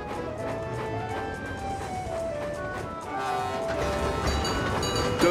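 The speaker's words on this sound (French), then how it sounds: "C'est le petit tramway de Chicalor." A small cartoon tram rolls along its rails with a steady clattering rumble and ringing tones, growing louder toward the end.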